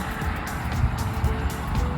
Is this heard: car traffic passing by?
yes